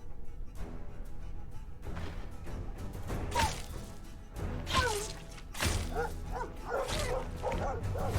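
Dogs in the video game Stoneshard bark and yip in several bursts amid combat effects and swooshes, fairly close and loud against a continuous game soundscape.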